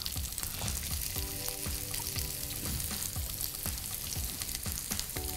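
Potatoes for spiced achari aloo hit hot oil in a pan, giving a loud, steady sizzle and crackle that runs unbroken from start to finish, with no voices.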